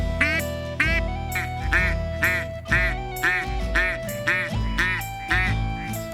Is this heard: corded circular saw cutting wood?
no